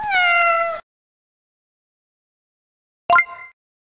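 A cat gives one drawn-out meow, then a short chirpy sound follows after a pause of silence.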